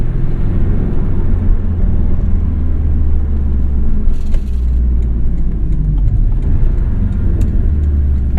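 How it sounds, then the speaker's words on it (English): A 2017 Porsche 718 Boxster S with PDK and an MTM exhaust system gives off a steady, low engine rumble that drones on continuously, heard from the cabin without talk. "this exhaust system really does a nice job of bridging that gap and bringing back some emotion to it"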